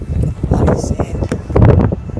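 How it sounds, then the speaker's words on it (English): Wind buffets hard against the microphone on a sandy beach, a loud blustery rumble with a voice partly heard through the gusts. "Bloody wind."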